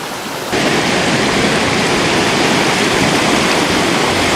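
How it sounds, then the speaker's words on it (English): Class 5 river rapids on rural California land rush in a dense, steady roar that swells in abruptly after half a second and holds loud and unbroken throughout, with no voices. "Class 5 rapids, oh yeah."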